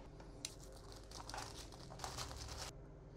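Packaging of a Poco C75 phone box being handled during unboxing, soft crinkling and rustling bursts with a couple of brief louder crackles, close but quiet, with no talking.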